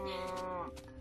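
Two cows in Minecraft give a single drawn-out moo that trails off near the end, loud and up close with no talk.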